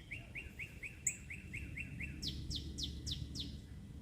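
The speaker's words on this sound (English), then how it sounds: "The birds today are really trying hard." Birds sing in a garden: a rapid, evenly spaced series of repeated chirps gives way to a run of sharper, louder notes, all moderately distant over a soft low background rumble.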